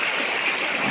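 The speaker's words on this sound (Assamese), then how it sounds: "এয়া নদী, আমাৰ ভঙা পাহাৰ নদী।" Steady broadband rush of the Bhoga Pahar river flowing and churning, close and continuous with no break for the whole second.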